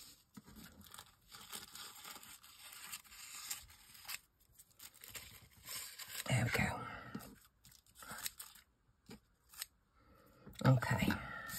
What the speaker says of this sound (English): Now I'm going to just trim the excess.